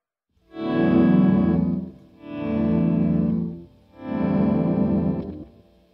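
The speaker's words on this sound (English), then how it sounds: "if I mix that in with a little volume pedal, just by itself, already we're not sounding very guitar-y" Electric guitar swelling through a volume pedal with distortion and chorus effects, three smooth fade-in swells with no pick attack, each rising and sustaining before dipping away.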